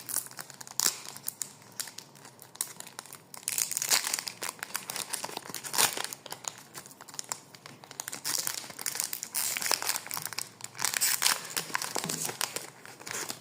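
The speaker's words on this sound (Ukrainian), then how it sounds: "Так, відкриваємо другу карточку." A wrapped collectible card packet is opened with continuous close crinkling and crumpling of foil or plastic wrapper, plus occasional tearing sounds, with no talking.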